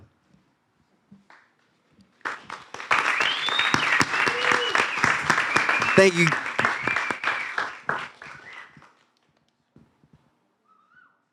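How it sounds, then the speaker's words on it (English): Warm applause from an audience honoring panelists at a talk show on vape safety, rising suddenly, holding steady for about six seconds, then fading out, with a brief spoken word partway through. "Give another round of applause for yourself and our panelists"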